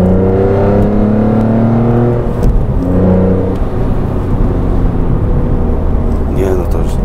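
A BMW M3 engine revs with a loud, slightly metallic, tinny exhaust note, rising and falling through several throttle blips over a steady mechanical drone, heard close and continuous.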